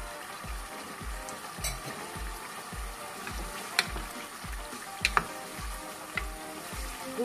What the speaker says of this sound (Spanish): Le agregamos el vino rojo. Y tenemos el fuego alto para que evapore el alcohol.